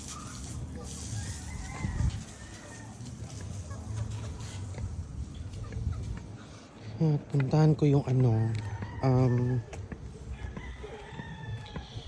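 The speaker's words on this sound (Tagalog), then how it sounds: "Yan, mga chicken." Chickens on a home farm, with a rooster crowing loudly and repeatedly near the middle over scattered clucking and yard noise, while a person talks throughout.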